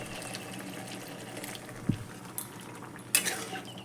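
Water is poured into a pan of prawn and potato curry. A soft, brief splash is followed by faint clinks of a spoon against the pot, up close and quiet.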